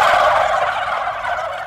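A man imitates a hen turkey's call with his voice, a loud, close gobbling-style yelp held for under two seconds, with no other sounds.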